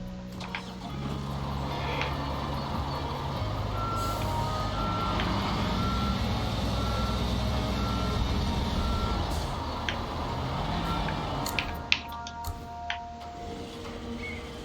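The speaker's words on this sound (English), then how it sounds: "Oh, I'm gonna back that truck up a bit." A construction truck reversing in Construction Simulator Europe gives a steady series of evenly spaced reversing beeps over a low engine rumble, with a few sharp clicks near the end and no talking.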